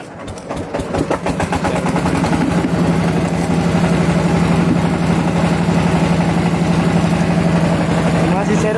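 A wooden boat's motor starts with a few sputters and settles into a loud, steady, throbbing drone as a boatman pulls away on the trip to Mithamoin. It runs close by and continuously, with voices faintly underneath.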